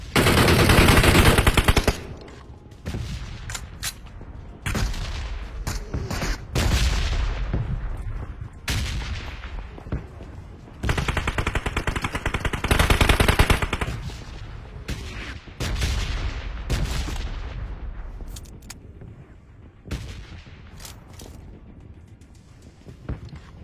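Bursts of video game gunfire, loud and close, with rapid machine-gun volleys and heavy booming shots separated by brief pauses across the stretch.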